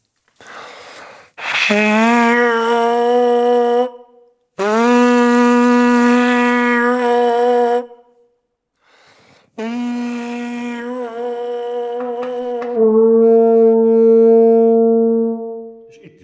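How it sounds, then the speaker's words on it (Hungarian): A tenor horn plays three long sustained notes with pauses between them. The tone is rich and close, and the last note holds steadily. "megváltozik ez a rezgésnek a hangja. Tenorkürt hangja lesz."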